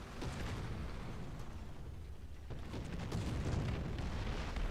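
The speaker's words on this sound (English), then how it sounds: "Oh, this artillery will mess you up." Rumbling artillery fire in the War Thunder video game, a steady low-end roar of distant booms and bursts that rises slightly in the last seconds, with no talk.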